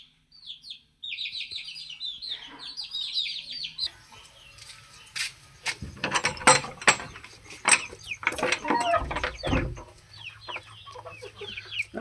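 Young Aseel fighter chicks, including black fighter chicks, give a run of high, rapid peeps for the first few seconds. Then come close, irregular clucks and clattering scuffles of the birds moving about.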